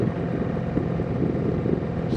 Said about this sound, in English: So this is my first road bike. This is a 1982 Honda Magna,